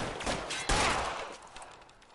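Gunfire in L.A. Noire, with a short burst of sharp shots at a moderate distance, the strongest crack near the middle, fading quickly into a faint noisy tail.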